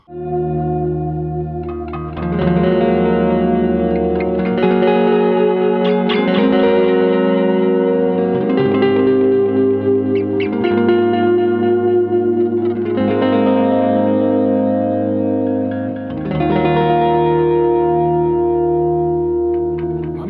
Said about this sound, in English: It does cover amazing Bucket Brigade analog delay, super tight slapback, weird trailing, modulated, ambient noise making stuff really well